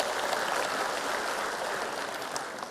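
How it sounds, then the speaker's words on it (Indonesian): A crowd at an Indonesian political campaign rally for the Ganjar-Mahfud ticket claps in a soft, continuous wash of applause that stays fairly even and somewhat distant, with no voices standing out. "Tepuk tangan untuk Pak Mardiono."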